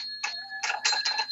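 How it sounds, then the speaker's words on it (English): An old party-line telephone's bells ring in a few bright metallic bursts over a faint steady tone, close by and with no talk. "you can hear the old sound of the bells"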